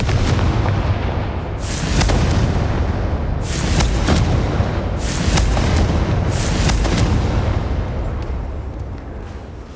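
Confringo fire blast spells in Hogwarts Legacy boom out in a loud, fairly regular series of about four bursts over a steady rumbling game background, with no talking.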